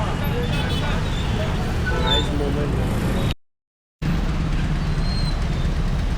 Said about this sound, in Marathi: तर पूर्ण रस्ता ट्रॅफिक जॅम आहे